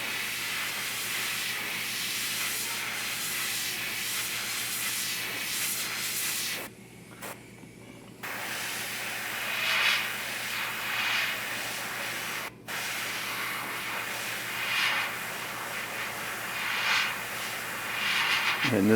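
An airbrush sprays paint in steady hissing bursts while shading a quarter-scale custom Hellboy statue, close and continuous, with two brief gaps where the air cuts off.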